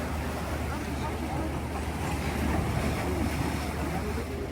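Sea surf washes in as a continuous broadband rush, swelling slightly midway, with wind buffeting the microphone.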